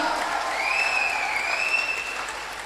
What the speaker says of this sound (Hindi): जोरदार ताली है, जोरदार ताली, पूरा चिल्लम चिल्ली हो